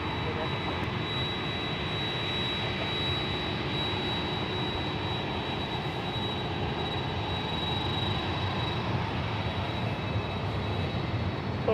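A jet airliner roars steadily on the runway at San Francisco International Airport during takeoff, a continuous broad engine rumble that holds loud throughout, with faint radio chatter underneath.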